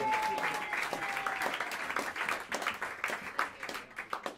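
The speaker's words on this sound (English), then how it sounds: "A big round of applause for the incredible Joe Farnsworth." Jazz club crowd at Smalls in New York City claps for the drummer, a lively burst of applause at moderate distance that tapers off unevenly, with scattered claps and murmuring voices.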